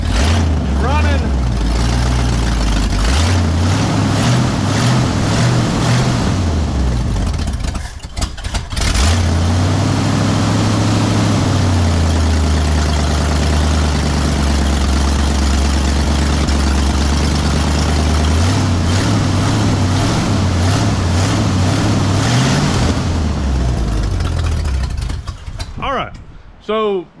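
A 1968 Ford F100 truck engine, newly converted to a four-barrel carburetor, runs with a deep, loud idle that rises and falls, briefly cuts out and restarts, then keeps running close by while someone talks over it.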